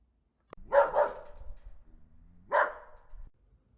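A dog gives a quick pair of barks, then a single bark about two seconds later, fairly close in an otherwise quiet room.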